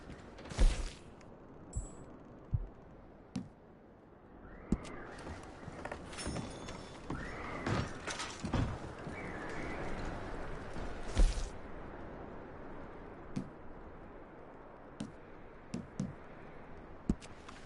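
Horse hooves clip-clop in an uneven rhythm while a horse whinnies a few times, with scattered sharp knocks and clicks around them, in the video game Red Dead Redemption 2.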